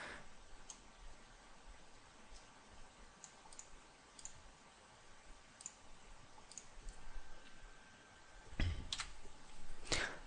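A computer mouse gives a series of faint, sparse clicks over a quiet hiss, with a couple of louder, sharper clicks near the end.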